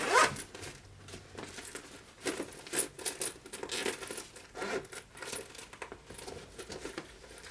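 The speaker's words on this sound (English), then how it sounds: "Let's zip it up." A zipper being pulled closed on a clear vinyl travel pouch, a close, crisp ratcheting zip in several short strokes with small plastic clicks, no talking.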